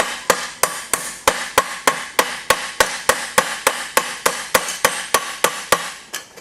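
Steady, evenly spaced hammer taps on a metal rod, about three per second, sharp and close, continuing throughout without pause.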